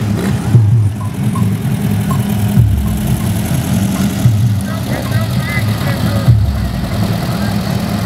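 The engine of a Volkswagen Fusca (Beetle) idles nearby with a steady low, chugging hum, and the air-cooled rumble stays even throughout with faint background noise.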